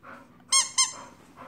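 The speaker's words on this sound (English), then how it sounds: "Joey, can mommy have a squeaky toy?" A dog's squeaky toy gives two sharp, close squeaks in quick succession, with quiet low murmuring around them.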